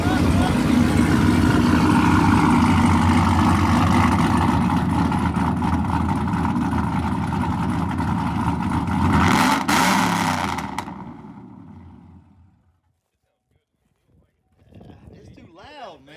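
A car engine with a new cam idles loudly nearby, a rough, heavy rumble that holds steady and then dies away to silence, followed by faint voices.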